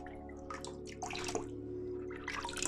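Aquarium filter foam from an Aquael Versamax mini filter is rinsed under running water, with soft intermittent splashing and trickling close by.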